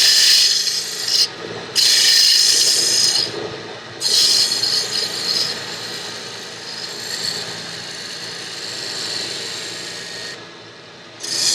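A woodturning gouge takes a light cut on a spinning wooden lidded box, making a steady, close scraping hiss in several long passes with brief pauses between them.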